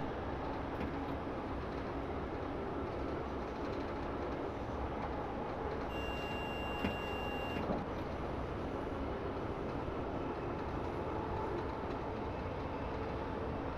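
A BR 442 regional electric train runs in Train Simulator on a line toward Munich, a continuous broad rumble with rail noise and a brief tonal whine midway, steady and even throughout.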